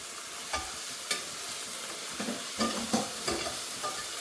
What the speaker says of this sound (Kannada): ಆಮೇಲೆ ಟೊಮೆಟೊ, ಆಮೇಲೆ ಹಾಕು, ಫ್ರೈ ಮಾಡು, ಬೇಗ ಬೇಗ ಮಾಡು